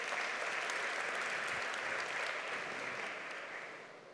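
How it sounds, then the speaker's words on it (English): At an event featuring the humanoid robot Sophia, an audience gives a question a sustained round of applause, loud and dense at first, then fading gradually over the last second or so. "Round of applause for that question, that was great."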